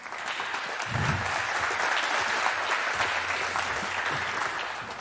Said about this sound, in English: Please give him a very warm round of applause